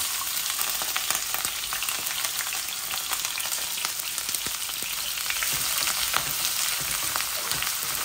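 Chopped onion, ginger and garlic sizzle in a pan for chicken bhuna, a loud continuous crackling fry with scattered pops and no voices.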